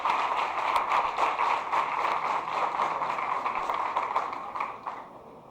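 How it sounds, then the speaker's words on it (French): Steady, dense applause from an audience at a nursing school graduation ceremony in Les Cayes, Haiti, as a nursing graduate is honored. The clapping stays even throughout, then thins and fades in the final second. "Applaudissez-la, s'il vous plaît."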